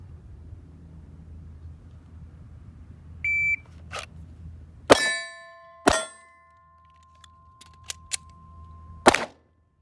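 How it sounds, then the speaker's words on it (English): Magazine reloads on a PSA Dagger pistol give a few sharp, close metallic clacks and clicks, spaced apart over a quiet background, with a short beep early on. "let's run some mag reloads"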